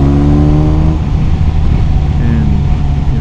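BMW R 1250 RS motorcycle engine pulling hard on a road with traffic nearby, a loud steady drone with rising harmonic tones that fall away, close up and continuous throughout, with a voice talking over it.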